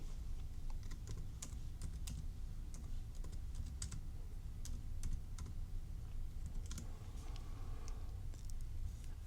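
Computer keyboard being typed on for a Google search, a steady run of close, quick key clicks over a low background hum, alone with no talk.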